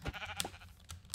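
Sheep in the Minecraft video game give a few brief, faint bleats in quick succession, with light clicking in between and no talking.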